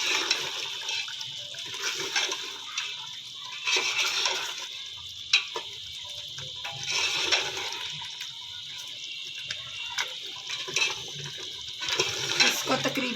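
Potatoes tipped into a pan of mutton curry with green chillies and stirred, giving soft wet scraping and splashy clatter over a steady hiss, with scattered spoon knocks throughout.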